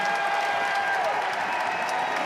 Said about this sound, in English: Nice applause for the freshman as he comes off to an ovation here